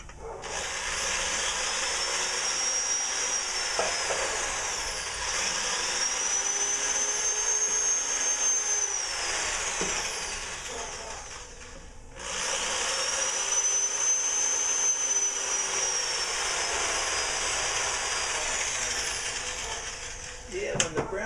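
A power drill bores holes through wood into walnut while building a checkerboard, giving a sustained high whine in two long runs separated by a brief pause, fairly close and steady.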